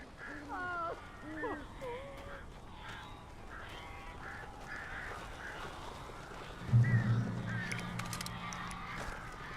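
Birds in the Alan Wake video game let out a quick run of harsh, honking squawks at the start, then fall quiet beneath a muffled ambience before a heavy low thump.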